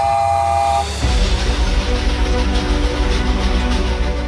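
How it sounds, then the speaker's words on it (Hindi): A four-chime whistle on a handmade model steam engine gives a short, loud, steady tone that cuts off into a continuous rush of hissing steam and rumble. "इसको 4 चाइम विसल बोलते हैं।"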